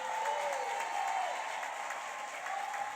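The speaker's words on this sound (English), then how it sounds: "give a standing ovation and applause to every graduate that is sitting in front of" An audience at a 2019 Progressive Leadership Academy graduation gives graduates a standing ovation, steady moderate clapping filling the room for the whole stretch with no speech over it.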